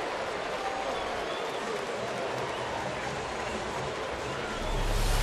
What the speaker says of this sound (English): Did you hear that roar from the crowd when Schaefer rounded third?